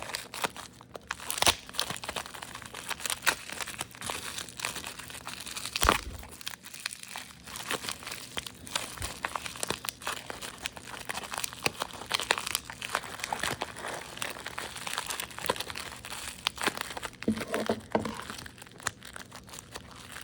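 Hot Wheels plastic packaging is cut and pried open, giving close, persistent crinkling and crackling of stiff plastic, with irregular snaps and crunches throughout and no talking.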